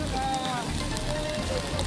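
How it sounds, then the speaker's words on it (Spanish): Heavy rain falling outdoors on a crowd queuing outside a stadium before a concert, a dense steady patter across the whole clip with a voice talking over it. "ahora justo se intensificó la lluvia en este lugar, cayó un poco más fuerte hace un par de segundos atrás"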